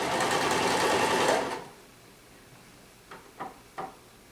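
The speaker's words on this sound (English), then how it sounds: "And I'm stitching it all the way around." Sewing machine stitching around a sleeve hem runs in a loud continuous burst for about a second and a half, then stops, followed by a few quiet knocks and clicks.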